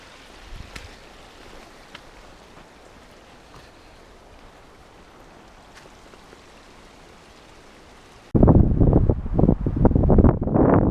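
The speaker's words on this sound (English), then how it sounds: "Wind's kicking up again." Wind gusts at Chambers Creek, first a faint steady outdoor hiss, then a sudden loud rough buffeting against the microphone that continues to the end.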